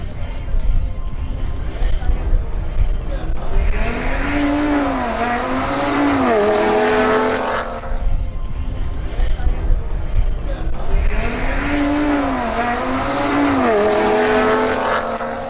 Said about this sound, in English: Now, it's time for a face-off between Jason Espitia's Audi RS3 and Santiago Mejia's BMW M240i xDrive